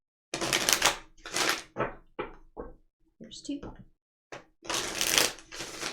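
Brisk tarot card shuffling in several short bursts, crisp riffling strokes separated by pauses, with a voice counting between them.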